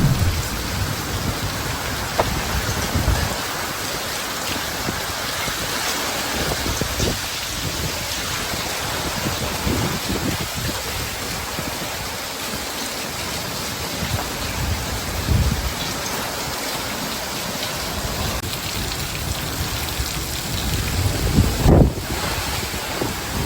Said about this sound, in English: And this is after the main storm rolled in.